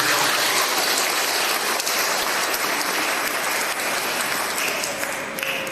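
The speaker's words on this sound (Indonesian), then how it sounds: "Mari kita tepuk tangan yang meriah." A church congregation at a priest's first Mass applauds loudly and steadily, a dense, continuous wash of many hands that holds throughout, with no talk.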